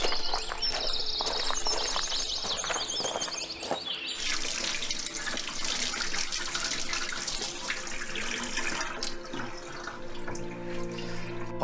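Hot water runs steadily from a tap in a continuous, fairly close rushing and splashing stream with fine spattering detail. The flow shifts partway through and carries on without talk.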